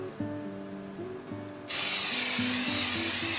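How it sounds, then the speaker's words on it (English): Cooking spray hisses into a pan in one loud, steady burst lasting nearly two seconds, after a moment of faint kitchen background with light knocks. "We're going to start with a little cooking spray."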